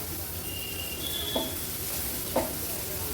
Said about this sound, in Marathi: हळद आणि मसाला तेलावर छान आपल्याला परतून घ्यायचा आहे